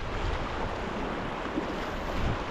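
Swift Class 1 and 2 rapids on a mountain river in Canada's Northwest Territories, heard from a packraft as a continuous broadband rush of churning water close by, steady and loud, with wind buffeting mixed in.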